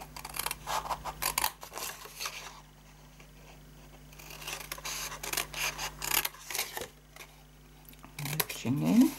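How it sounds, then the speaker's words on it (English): Scissors snip a wedge into a handmade paper gift box with several short cutting and rustling strokes close by. There are quieter pauses between the strokes and a brief sharper sound at the end. "And then you cut a wedge here."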